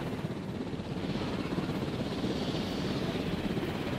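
Steady rotor drone of helicopters in the Jurassic World Evolution park game, a continuous low whirring rumble with wind-like hiss, holding at even loudness throughout with no talk over it.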